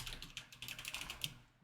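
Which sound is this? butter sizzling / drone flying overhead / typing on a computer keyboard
typing on a computer keyboard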